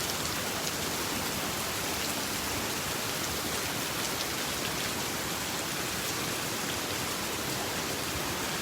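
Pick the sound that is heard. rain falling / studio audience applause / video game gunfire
rain falling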